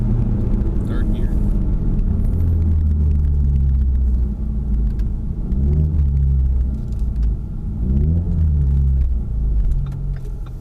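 A Ford Mustang EcoBoost pulls hard in third gear, a loud steady engine rumble from inside the cabin that rises and swells in pitch, with a voice speaking over it.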